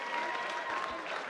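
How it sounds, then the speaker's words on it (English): Crowd applause at a fight night after three rounds of a bout, dense and continuous clapping heard up close for the whole brief stretch. "a big round of applause, please, for both these men after three excellent rounds of action"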